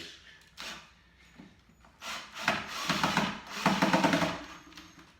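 A Phillips screwdriver tightening a screw into the housing of a Reflex Stick controller, with close, dry scraping and rubbing strokes that grow louder in two rough bursts toward the end.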